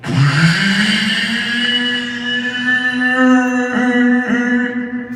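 A voice imitates a droning, buzzing whine, part vacuum and part bagpipe, held steadily for about five seconds with a slight wobble near the end.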